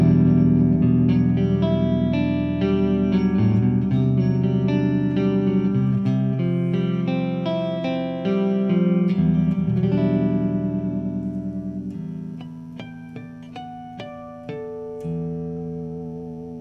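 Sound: clean electric guitar, neck pickup

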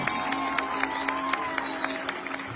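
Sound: audience applause for singers

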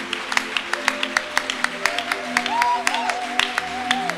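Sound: congregation cheering and applauding in celebration

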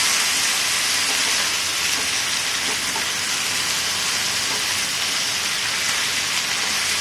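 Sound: bilimbi vegetable frying in a pan

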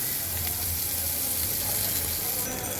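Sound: onion frying in a pan

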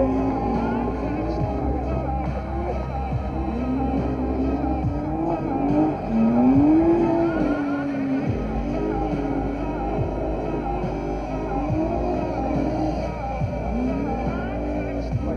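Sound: drifting car

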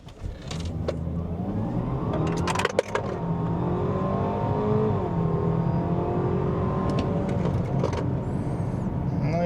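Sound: car accelerating from standstill to 100 km/h

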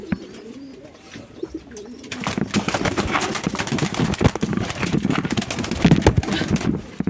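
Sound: pigeons cooing in a loft

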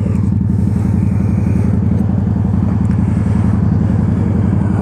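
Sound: Honda Shadow Ace 750 motorcycle riding

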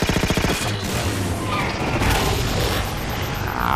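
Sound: incineration cannon fire in video game

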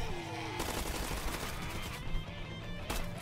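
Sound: gunfire shooting zombies in Roblox video game

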